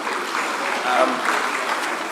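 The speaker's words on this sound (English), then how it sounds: "Please, let's clap for him as he reflects on behalf of Prinkoff." An audience at a public lecture on technical and vocational education in Africa claps in a steady wash of applause throughout, fairly close and full.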